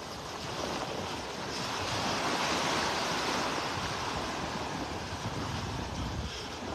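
Ocean surf rolling onto a beach in North Naples, Florida, a steady broad wash of breaking waves swelling and easing, mixed with wind buffeting the microphone, no voices.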